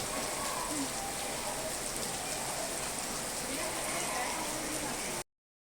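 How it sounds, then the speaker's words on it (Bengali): Steady rain falls continuously, a dense close patter with a broad hiss, before cutting off abruptly near the end. "হাতে বৃষ্টি আসে"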